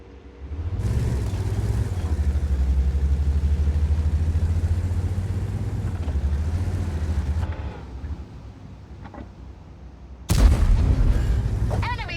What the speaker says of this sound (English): Quite an accurate gun over distance.